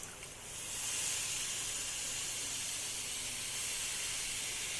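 Soaked thekera pieces dropped into hot oil where rohu fish is frying, giving a steady broad hissing sizzle that swells after a brief start and holds evenly, close and moderately quiet.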